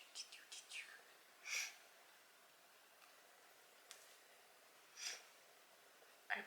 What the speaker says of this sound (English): I apologize for the sniffling.